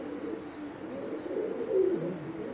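Imported teddy pigeons coo in a steady, low, murmuring chorus that swells slightly near the end, close by and with no talking.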